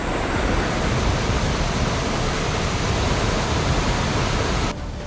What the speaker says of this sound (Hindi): नेचुरल झरना बहता हुआ